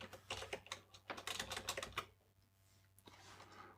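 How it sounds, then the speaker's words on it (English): Keys clatter on a computer keyboard as a controller address is entered in Jenkins: quick, close clusters of clicks for about two seconds, then a quieter pause and a final short burst. "I'm just going to type it in"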